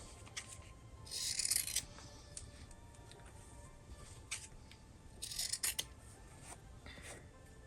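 Scissors trim the corners of leftover fabric pieces in a quiet room. Two short bursts of crisp snipping come close together, with small faint handling rubs and taps in between.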